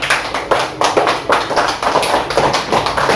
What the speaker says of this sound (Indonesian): Kasih aplaus untuk kelompok 2.